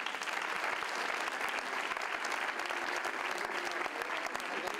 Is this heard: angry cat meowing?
no